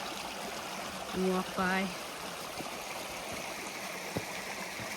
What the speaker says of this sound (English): just a really pretty stream to look at